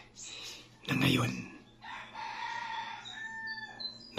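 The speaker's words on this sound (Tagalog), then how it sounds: "Mga tuktugaok ng manok ay naririnig ninyo." A rooster crows loudly nearby in a rural Philippine setting, one drawn-out cock-a-doodle-doo after a short squawk, with other birds chirping faintly around it.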